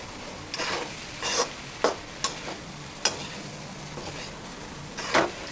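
Egg burji rice being mixed slowly in a pan, with a low sizzle under a series of about six separate scraping strokes and light taps from the spoon, spaced irregularly, no talking.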